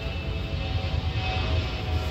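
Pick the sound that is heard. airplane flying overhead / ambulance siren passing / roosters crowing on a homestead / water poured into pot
airplane flying overhead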